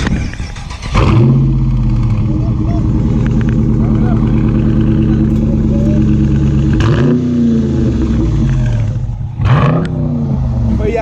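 A 2017 Dodge Challenger R/T Plus with the 5.7 V8 revs its exhaust up close and loud, building to a sustained deep drone. Sharp throttle blips follow near the end, and voices can be heard behind the engine.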